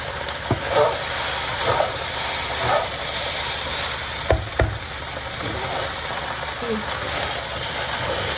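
Shrimp and broccoli cooking in a hot pan give a steady, loud sizzle and hiss, with occasional knocks and scrapes of stirring throughout.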